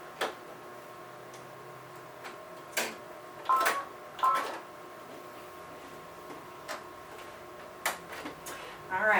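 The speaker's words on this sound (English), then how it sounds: "So we're going to attach this foot to the machine." A candlewicking presser foot clicked onto the regular shank of a sewing machine, a few sharp plastic and metal ticks and clacks spread out over quiet room noise, with someone talking.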